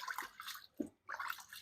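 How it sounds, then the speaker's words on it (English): Rice being washed in a bowl of water for native palm oil rice, with soft sloshing and splashing in two short bursts separated by a brief pause, close and fairly quiet. "I'll wash this rice until this water turns white, or should I say it turns clear."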